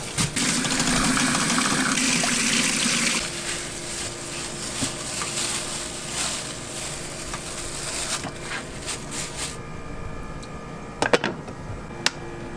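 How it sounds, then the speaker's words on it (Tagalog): Water gushes loudly into a pot holding four pieces of longganisa for boiling. The pour lasts about three seconds, then fades to quieter handling noise with a few sharp clinks near the end. "lalagyan muna natin to ng tubig dahil papakuluan natin to."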